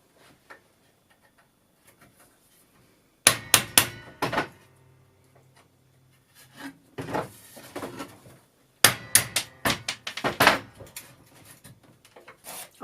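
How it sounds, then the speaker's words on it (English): Sharp hammer strikes on a hole punch drive nails out of pallet wood, ringing out in three separate bursts of rapid blows, with quiet pauses between them, close and loud. "To take nails out, I just use a hole punch and a hammer."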